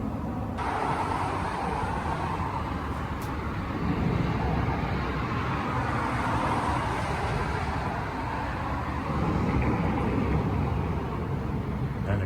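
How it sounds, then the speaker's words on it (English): An official government car passing along an empty street during a curfew, a steady broadband road rumble swelling and easing over several seconds, fairly near and alone. "everyone moving is either police or some sort of official government vehicle"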